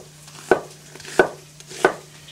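An onion chopped with a knife on a board, three distinct evenly spaced thuds close by, with quiet background between cuts.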